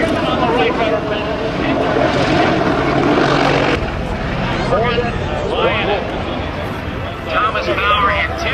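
An attack helicopter flies and manoeuvres, including backwards, its rotor and engine a loud, continuous thrumming roar with a rhythmic beat, while a commentator talks over it.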